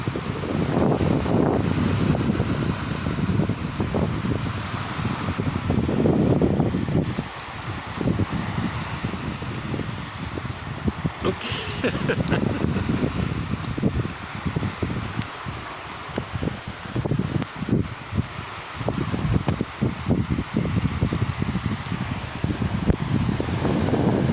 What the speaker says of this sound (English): Today it's a sunny and windy day.